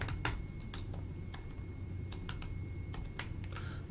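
Fingers tap out short irregular bursts on a computer keyboard, the clicks close and fairly quiet over a low background hum.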